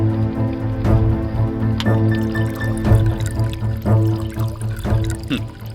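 Liquor poured from an open bottle onto the ground, a loud, close, steady gush that splashes and drips continuously for several seconds, with no talk.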